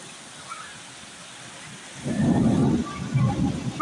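Rain starts partway through in Egypt, a sudden louder rush of falling water and low rumble after a quieter, steady background hiss.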